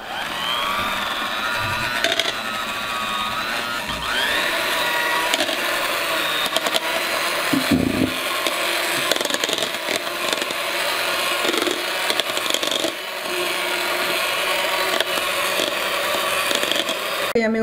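An electric mixer whirs continuously and loudly while beating a frozen raspberry cake mixture, its steady motor hum broken by brief rattles and bumps against the bowl.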